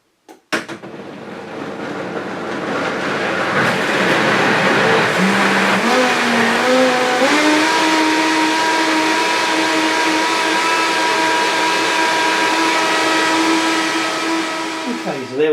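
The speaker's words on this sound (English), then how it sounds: "we're just going to liquidise the ingredients now to make it the cream of tomato soup that we want" A blender runs loud and steady, liquidising cream of tomato soup ingredients with coriander. Its motor whirs continuously for most of the clip, the pitch shifting upward a couple of times as the load changes.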